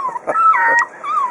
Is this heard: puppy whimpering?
yes